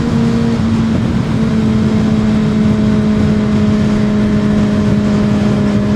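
A Kawasaki ZX-6R motorcycle runs hard, a loud, steady engine drone with a brief shift in pitch early on as it upshifts on the quick-shifter, then holds its tone, heard up close.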